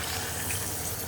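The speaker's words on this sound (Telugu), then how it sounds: "ఇప్పుడు కొంచెం వాటర్ పోసుకున్నాం" Water poured into a pan of potato and tomato curry, a short steady pouring and splashing rush heard up close and alone.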